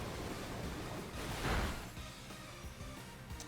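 A short watery whoosh from the Pokémon move Muddy Water in the video game Pokémon Scarlet/Violet, rising as a single surging splash in the middle over a steady noisy rush of background game sound.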